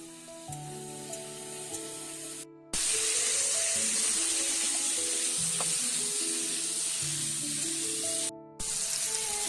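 Water poured into a hot pan of frying potato and pumpkin bursts into a loud, steady hissing sizzle a few seconds in and keeps going. Soft background music plays before and beneath it.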